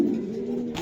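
A racing pigeon gives a low, continuous throaty coo close by, steady for under a second with no speech over it.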